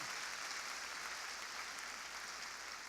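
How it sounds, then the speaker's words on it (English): Audience at the 2017 National Urban League Annual Conference, held in a Baptist church, applauding as a faint, steady wash of clapping heard from a distance. "A big round of applause, please."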